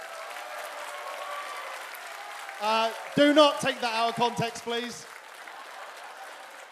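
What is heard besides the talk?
audience applause at cosplay contest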